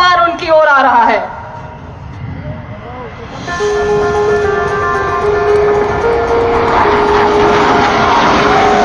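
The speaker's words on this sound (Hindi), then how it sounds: "लेकिन जरा बाईं तरफ देखिए, ये कौन सा विमान उनकी ओर आ रहा है।" A military jet roars overhead at an air force air show at an airport, its engine tone rising into a loud, sustained whoosh after a short quieter gap, with no talk over it.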